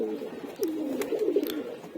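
Pigeons kept in a cage giving a soft, close, rolling coo that rises and wavers over about a second, amid faint background rustling.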